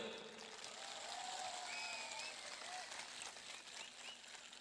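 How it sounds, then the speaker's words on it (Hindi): Faint, steady clapping from an audience acknowledging Chandra Kumar Jamatia, the first IAS officer from the Jamatia community, heard at a distance with soft background noise. "ताली दो"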